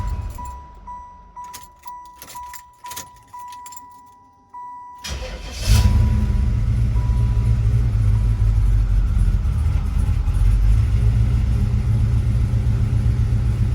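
A 1995 Chevrolet Impala SS V8 cranks over and catches, then idles loud, steady and high-revved close by with a deep rumble, after a few rhythmic starter-like bursts and a jingle of keys.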